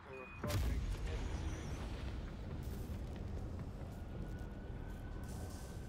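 A strike explosion in Call of Duty Zombies on the Mauer der Toten map: a loud boom erupts early, followed by a long rumbling roar and debris that fills the rest of the moment with dense, sustained noise.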